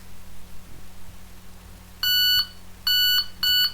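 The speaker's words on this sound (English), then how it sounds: "as soon as I get any sharp movement, it sets it off." A Delkim bite alarm bleeps in three sharp, loud electronic tones, with a steady low hum and faint handling noises before the first beep.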